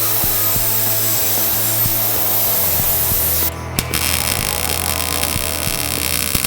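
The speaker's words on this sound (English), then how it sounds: "we're gonna cut a nice little Diagonal piece into it" A power tool cuts a diagonal notch into a metal bar for a rat rod wagon's drop axle, a steady loud grinding drone with a brief dropout midway and sharp ticks throughout.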